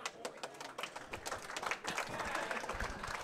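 A crowd at a 10-ball pool final of the 2017 US Open applauds in a soft, scattered patter that builds toward the end. Faint talk is mixed in.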